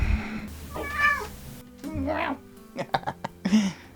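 A cat meows a few times, short rising-falling cries mixed with some squeaky voice sounds and brief clicks and shuffling nearby.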